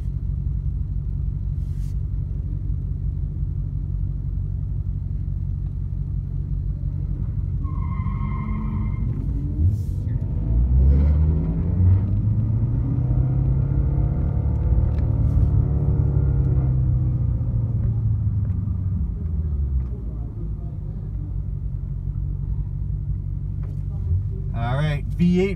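A Lexus IS F and a BMW E92 M3, both V8s, rumble at a drag strip, with a low idle that swells into a rising, revving engine sweep midway before settling back, while someone talks over it.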